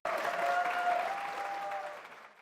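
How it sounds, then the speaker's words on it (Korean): An audience claps to welcome a speaker at a sermon contest, a full, even round of applause with a faint tonal hum beneath, holding strong before fading away at the end. "큰 박수"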